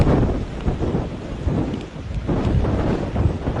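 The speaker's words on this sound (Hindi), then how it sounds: "गणेश ठाकुर, तूफान टकरा चुका है महाराष्ट्र के तट से।" Cyclone Nisarga making landfall on the Maharashtra coast at Alibag, with heavy rain and gusting wind roaring as a loud, continuous, dense storm wash with deep rumbling, no speech over it.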